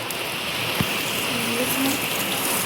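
Rain patters steadily onto a village rooftop terrace, a close, even hiss of drops with one sharper knock partway through.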